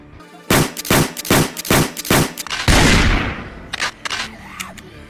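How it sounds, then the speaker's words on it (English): Firearm gunshots in the Project Zomboid game ring out loud and close in a run of about seven evenly spaced reports. A heavier blast follows, and then a few scattered, quieter clicks and shots. "as you can see, firearms are real loud, and they will draw a lot of zombies in from a long ways away"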